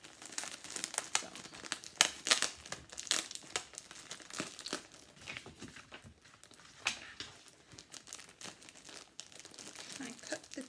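A crinkly plastic bag holding a haul of Premier Basics yarn skeins is pulled open at its cut taped seam, giving loud, continuous crackling and rustling close by with sharper crunchy bursts throughout.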